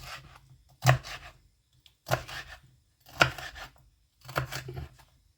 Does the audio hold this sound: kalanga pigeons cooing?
no